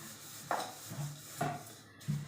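Dishes and pots being scrubbed and washed by hand, with a few separate clinks and scraping rubs spaced out at close range, fairly quiet with no talking.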